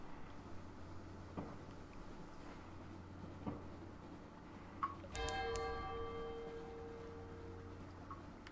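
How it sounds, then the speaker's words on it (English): Distant bells toll in the video game Sunless Sea, a few faint isolated strikes first, then a brighter ringing bell tone that sustains and decays over quiet low ambient drone. "distant bells"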